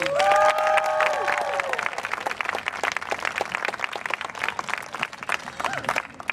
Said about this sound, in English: Everyone, round of applause, please.